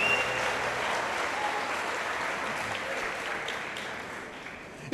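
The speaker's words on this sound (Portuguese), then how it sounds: "Dá uma oferta de palmas a Jesus." A church congregation claps together in steady, dense applause that fills the space throughout and fades slightly toward the end.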